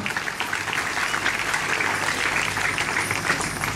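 A youth camp opening audience of GPdI churches in Papua breaks into sustained, dense applause, loud and even throughout, with faint voices mixed in.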